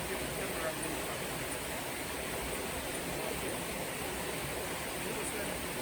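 The river at Roaring River in Westmoreland, Jamaica rushes with a steady, loud, broadband roar of churning water, continuous and unbroken throughout, with no voices over it.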